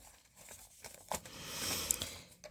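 Tarot cards being shuffled in a quick riffle, a soft papery crinkle and flutter that swells near the middle and then ends in a few sharp flicks. Close and fairly quiet, with no voices.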